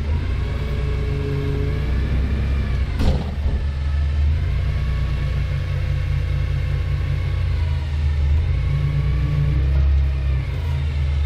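A Fenwick H20/H35 forklift running with its mast lowering the forks, producing a steady low engine and hydraulic drone held at constant level, with a brief sharp clack near the start and no voices.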